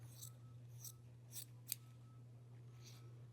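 Scissors snip the pointed tip off a fabric strip being prepared for a Simplicity bias tape maker, giving five or six quiet, crisp cuts spaced irregularly over a steady low machine hum.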